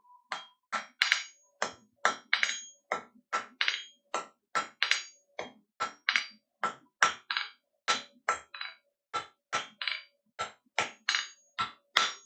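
Steady hammer blows ring out one after another, about two per second, sharp and close with no talking.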